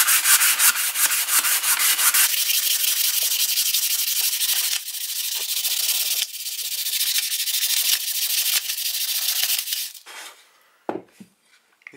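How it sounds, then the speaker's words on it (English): A wooden handle of a vintage 1960s hatchet rubbed with 220 grit sandpaper, a loud close rasping scrub in quick back-and-forth strokes that runs steadily for ten seconds, then tapers off into a few faint knocks. "I'm going to go out the handle for a little bit with some of this 220 grit."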